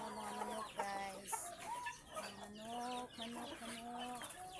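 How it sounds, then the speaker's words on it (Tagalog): Chickens at a poultry farm cluck close by in a string of short, repeated calls with brief pauses between them, with no talk over them. "Ito na mga manok"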